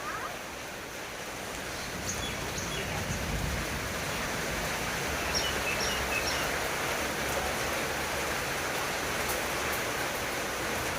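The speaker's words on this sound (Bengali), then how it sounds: "ভীষণ জোরে বৃষ্টি এসেছে" Heavy rain pours down after a spell of intense heat, a dense, steady rushing hiss that holds evenly throughout and swells slightly after the first couple of seconds, with no other sounds breaking through.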